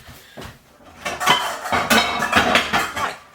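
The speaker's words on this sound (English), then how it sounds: "Like using my big stainless steel frying pan." A big stainless steel frying pan is handled in a home kitchen, giving a series of metallic clanks, scrapes and knocks, close and fairly loud, with no talking.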